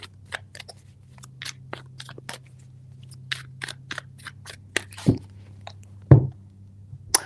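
Tarot cards shuffled three times during a feelings reading, heard as a run of crisp, brisk riffling clicks and snaps close up, with a steady low hum underneath and no talking.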